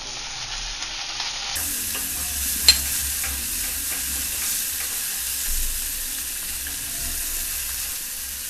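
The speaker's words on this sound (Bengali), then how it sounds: "আমি এতে টমেটো কুচিটা দিয়ে দেবো" Chopped tomato frying with ginger in a pan for oats khichdi, a sudden jump into loud, constant sizzling and hissing with light stirring, close and steady.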